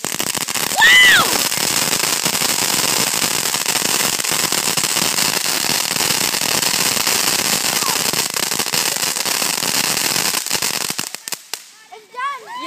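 A fireworks display crackles and bursts loudly in a rapid, continuous barrage for about ten seconds before thinning out into scattered pops, with people's voices faintly present.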